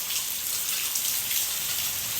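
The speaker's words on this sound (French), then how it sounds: "Ça y est, il est en train de pleuvoir." Heavy rain pours down in Gambia, a dense and loud hiss of countless drops hitting surfaces, even and unbroken throughout.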